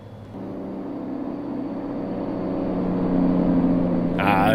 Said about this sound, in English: Let's see what the Jake sounds like this.